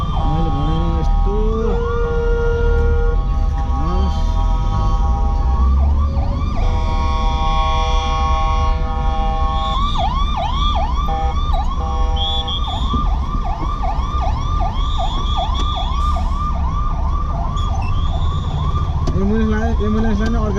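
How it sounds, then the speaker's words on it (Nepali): An ambulance siren wails loudly and close at a traffic signal, cycling through rising and falling yelps and steady two-tone passages, stuck amid idling vehicles with faint voices in the background. "एम्बुलेन्सलाई नै अड्का राखिदिइरहेको छ"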